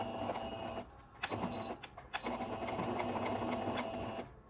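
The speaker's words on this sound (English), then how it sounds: "So let's go to the sewing machine." A sewing machine runs a straight stitch along a seam of a New Look 6737 garment, whirring close and steady in long runs broken by two brief pauses.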